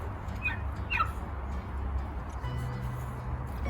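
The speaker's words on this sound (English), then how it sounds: "That's my turkeys." Turkeys chirp and call in short high bursts near the start over a steady low outdoor rumble, with a low hum entering later in the clip.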